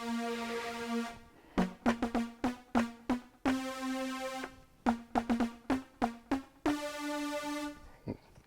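A tube synth preset played on an electronic music setup: a sustained buzzy harmonic tone, then a run of short repeated stabs in a steady rhythm, a longer held note near the end, loud and alone with no talking.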